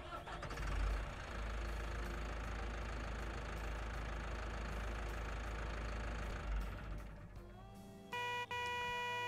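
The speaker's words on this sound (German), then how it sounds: "Motorsound." Vehicle engine idling in Farming Simulator 19 with the Alpine DLC, a steady mid-pitched rumble running through most of the clip before cutting to a brief horn-like tone near the end.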